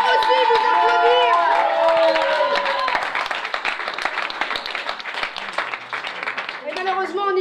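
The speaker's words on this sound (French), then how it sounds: "vous pouvez aussi vous applaudir." Cabaret audience in Paris breaking into loud, dense applause and cheering, a crowd roar of rapid clapping that follows a sung, sustained voice at the start and carries on to the end.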